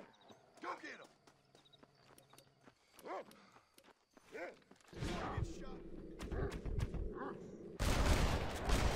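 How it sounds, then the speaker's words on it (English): Red Dead Redemption on Xbox One: horse hooves clop through open country, then a rapid burst of revolver gunshots erupts, loud and dense, ending in a harsher blast. "Two of those shots might have been unnecessary."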